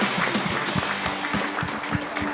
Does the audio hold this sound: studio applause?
yes